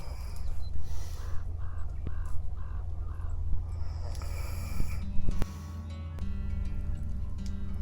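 A person snores inside a tent at a camp, with deep, rattling snores repeating in a slow rhythm, close and fairly loud, alongside brief higher snorting sounds.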